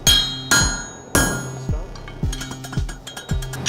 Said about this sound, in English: I will guide you with where I'm striking with my hammer to show you where I want it to be.